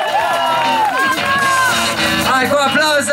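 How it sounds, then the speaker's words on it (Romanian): At a bikini race at Arena Platoș in Păltiniș, a crowd cheers and whoops loudly and continuously, with shouts and voices rising over the noise and a speaker talking through it. "Hai cu aplauze!"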